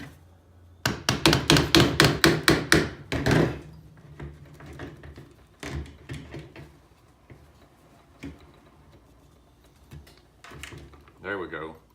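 A hammer taps a drill bit set on a pin in a 1980 K5 Blazer vent window, a run of about ten sharp metallic strikes in quick rhythm, followed by scattered clicks and knocks while someone talks.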